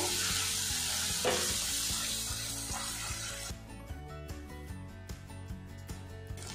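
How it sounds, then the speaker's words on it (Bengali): Spice paste frying in oil in a pan for a pointed gourd (potol) dish, loud steady sizzling for the first half, then quieter crackling with a rhythmic run of scraping stirs and clicks. "মশলাটা আমি কষিয়ে নেব যতক্ষণ না তেলটা ছাড়ছে।"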